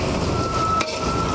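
Potato pieces with turmeric frying in a pan for a fish and vegetable curry, a soft steady sizzle with faint scraping of a spatula.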